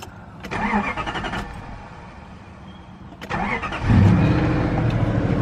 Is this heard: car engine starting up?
yes